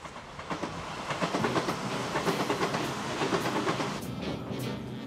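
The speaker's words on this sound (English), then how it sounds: "The last train we ride on our journey is the Kuroshio Limited Express." The Kuroshio Limited Express runs along, a faint steady rolling rumble with rhythmic clickety-clack pulses heard from inside the carriage, no voices present.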